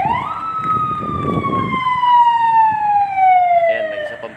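A police car siren sweeps past close by on a street, its single long wail sliding steadily downward in pitch as it goes by, with traffic rumbling beneath.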